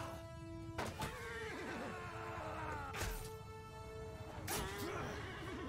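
In the Mount and Blade 2 Bannerlord battle, horses whinny and neigh in several loud, shaky bursts near the listener, with battle clatter in the background.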